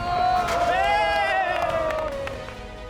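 A local crowd at a football match in Ethiopia cheers and whoops in a steady, loud roar that holds for about three seconds, with raised voices blending into a continuous wall of sound.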